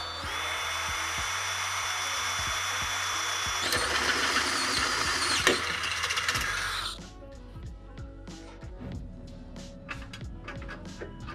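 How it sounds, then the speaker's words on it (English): A power drill with a 1/2-inch bit bores through a steel skid plate on a Chevy Colorado, a steady loud whine for about seven seconds before it stops, followed by quieter clicks and handling noises. "So I have a 1/2-inch drill bit."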